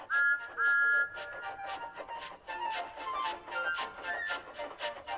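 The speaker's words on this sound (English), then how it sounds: "It's nice of them to wave, and he whistled. Peep, peep, thank you." A small steam engine in a children's train story gives two short, bright whistle peeps close up, followed by busy musical background.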